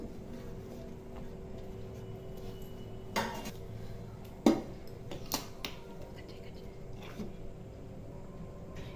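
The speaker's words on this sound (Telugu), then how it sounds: "ఇప్పుడు పెట్టుకున్న ఉల్లిపాయ ముక్కలు కూడా వేసి మళ్ళీ మెత్తగా దంచుకుందాం" Onion pieces and raw coconut for coconut chutney are pounded in a mortar: a few scattered, sharp thuds over a quiet, steady background hum.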